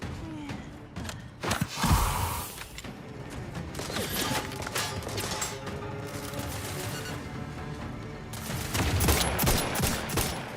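Heavy weapons fire in the sci-fi shooter Outer Worlds 2, a rocket launcher amid sustained gunfire: dense bursts and booms, loudest around the start and near the end, with crashes layered over a constant battle din.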